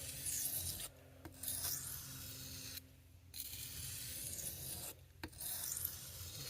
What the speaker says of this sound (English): It's literally just to sort of almost hone the edge.